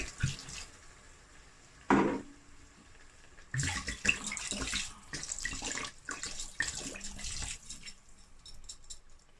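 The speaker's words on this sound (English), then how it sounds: "I'm going to add enough red wine to cover the mixture." Red wine being poured into a venison ragu simmering over medium heat gives a splashing, faucet-like pour of liquid with gurgling and sizzling, steady but uneven through most of the stretch, close by and moderately loud.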